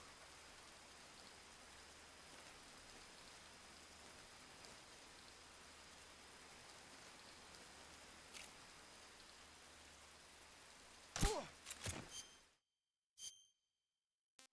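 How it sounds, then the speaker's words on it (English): Steady, soft rainfall hissing continuously in the video game Metal Gear Solid 3, a faint even patter that runs for several seconds before a few louder knocks and clicks near the end and then falls silent. "Actually, it's raining"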